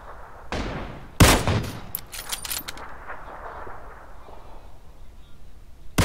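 Gunshots ring out in GTA, a few sharp close cracks followed by a quick burst of rapid fire, then a quieter tail of distant shots and ambient noise, ending with another abrupt loud shot.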